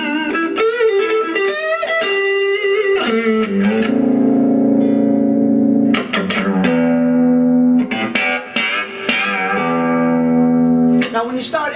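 Electric guitar played on the front pickup through a cranked Fender Vibro Champ XD amp, with saturated, distorted sustained notes and bends ringing loud and close with reverb, alone.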